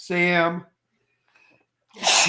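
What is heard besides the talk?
sneeze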